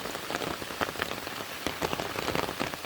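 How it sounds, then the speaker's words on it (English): Steady rain patters on surfaces during an early-morning hike on the Appalachian Trail in the Shenandoahs. The dense, close hiss of drops continues evenly throughout in wind and wet weather, with no voices. "Hiking out 6:22 in the morning in the rain"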